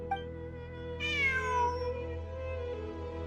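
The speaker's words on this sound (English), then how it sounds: "I'm not hearing things. It really is a cat." A cat meows in the video game Genshin Impact: one clear, drawn-out meow that rises and then slides down, heard over a steady, sustained background music bed.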